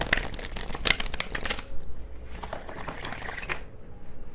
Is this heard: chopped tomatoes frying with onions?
no